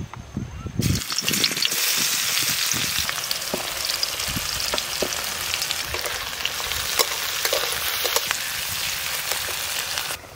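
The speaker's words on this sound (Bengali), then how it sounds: "এবার আমি পেঁয়াজ কুচি দিয়ে দেবো।" Chopped onions hit hot oil in a pan for a home-cooked small fish curry with green peas, bursting into a loud, steady crackling sizzle after a brief quieter start and continuing unbroken throughout.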